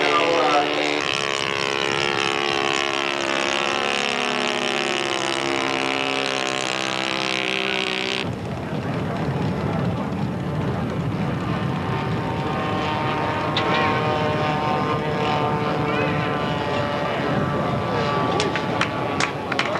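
Loud propeller engine drone from a Fairey Gannet scale model aircraft flying at the Top Gun Invitational, sweeping past close with a rising-and-falling buzzing pitch, then lowering to a rougher, more distant roar with crowd noise behind.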